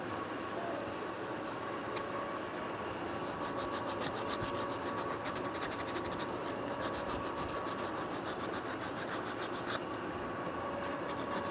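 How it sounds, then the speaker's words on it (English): Hand sanding wooden dovetail rungs in a home woodworking shop, a steady close rasping rub with quicker back-and-forth strokes in the middle, continuous and without talk. "Now I've sanded it by hand."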